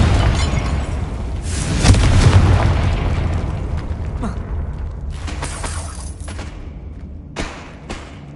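Confringo blasting spell in Hogwarts Legacy, a loud booming explosion that rumbles and decays over several seconds, followed by further crackling bursts and debris-like pops; a voice can be heard faintly.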